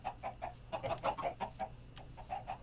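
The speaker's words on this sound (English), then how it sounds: "Chicken." Chickens in the Minecraft video game cluck in a quick, steady run of short, mid-loud calls, with no talking over them.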